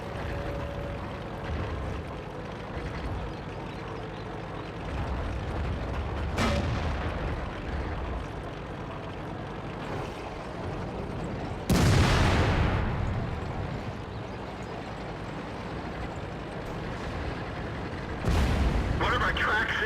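IS tank in World of Tanks battle, with a steady engine rumble and sharp explosive impacts including one loud shell hit on the track, plus other booms.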